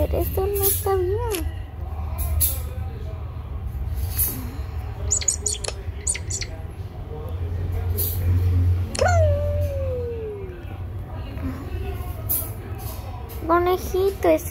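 A dog whimpers and cries in high, wavering whines and a few sliding howl-like notes, scattered across the stretch over a low steady background hum, with a voice present.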